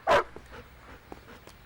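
One short, sharp dog bark up close, followed by quieter faint yelps and whimpers.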